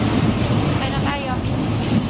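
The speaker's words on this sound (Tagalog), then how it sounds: "Ayan na ang LRT" An LRT light rail train arrives at a station in the Philippines, a steady loud rumble of rolling wheels and motors with a faint screech in the middle.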